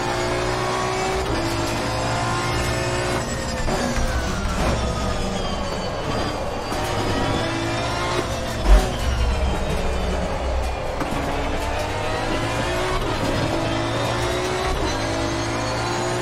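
Audi race car in Assetto Corsa Competizione, on career mode at the Nürburgring, accelerating hard with a steady, loud engine roar and rising harmonic whine, continuous throughout with one brief thump midway and no talk.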